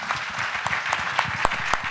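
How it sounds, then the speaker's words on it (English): Audience applause at a round-table conference on Italian advanced manufacturing, steady moderate clapping heard from a distance with a few sharper individual claps standing out, no speech over it. "Let's give them a round of applause."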